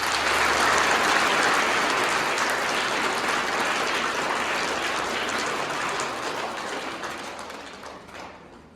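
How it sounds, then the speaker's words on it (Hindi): A school audience of students and teachers claps together in a dense, loud burst that slowly tapers off over about nine seconds. "पहले आप सब लोग अपने लिए तालियां बजाइए"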